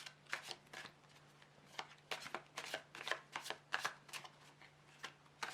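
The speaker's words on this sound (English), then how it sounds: "I'm just going to shuffle the cards a bit" Tarot cards are shuffled alone in a quiet room, a long run of crisp riffling bursts and soft slaps falling in an irregular rhythm, close and clear with a faint steady hum beneath.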